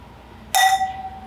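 Wine glasses clink once in a toast over red wine, a single bright ringing chime that decays over about half a second in a quiet room.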